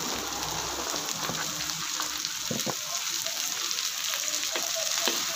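Green beans and vegetables sizzle and fry steadily in a hot pan over high heat, a constant crackling hiss with occasional sharper pops, close by and with no talking.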